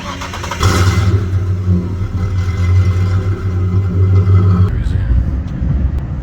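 A Ford car engine cranks and catches, then idles loudly close by with a steady low rumble before cutting off, followed by faint clatter.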